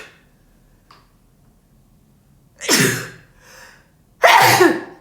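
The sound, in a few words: sneeze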